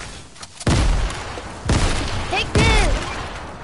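A video game gunfight where three loud bursts of gunfire and booming impacts hit close by at roughly one-second intervals, while a voice shouts over them.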